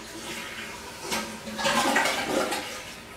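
Household toilet flushing during a home walkthrough, a close, loud rushing swirl of water that swells midway and holds steady to the end, no talking.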